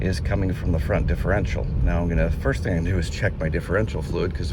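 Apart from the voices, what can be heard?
None of the usual background noises is heard.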